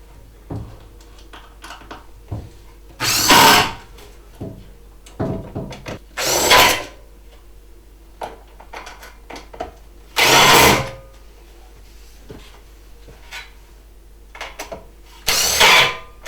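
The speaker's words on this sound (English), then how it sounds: "when you're screwing these in at home" Screws being driven into metal loft support brackets with a power drill, four loud separate bursts of whirring a few seconds apart, with small clicks and handling knocks between them and no talk.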